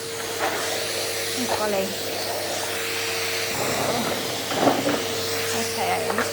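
A vacuum cleaner running steadily during a quick home floor clean, a constant close whooshing hiss with a faint tonal whine, and a brief spoken exclamation over it.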